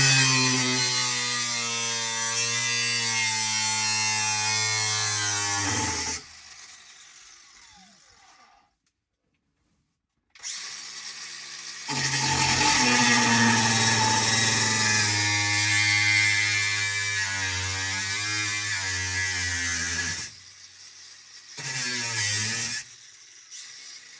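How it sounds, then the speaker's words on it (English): Cutoff wheel grinding into metal on a 1969 Buick Skylark during a manual transmission swap: loud, sustained whining bursts with a steady motor tone, cut into several passes separated by short silent gaps. "So let me go get the cutoff wheel. We'll cut some of that off."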